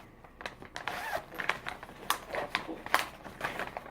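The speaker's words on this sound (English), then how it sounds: "In this pouch, it has a zipper." A zipper on a small see-through pouch is drawn open in short, quick rasping pulls, close up and fairly quiet, with small crinkles of plastic between the strokes and no voices.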